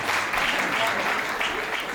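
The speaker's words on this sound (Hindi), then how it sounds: "एक बार सदन ताली बजा के आशीर्वाद दे" Audience in a hall at a Hindi kavi sammelan (poetry recital) clapping together, a dense, steady burst of applause that stays loud and even for about two seconds, with a few voices faintly mixed in.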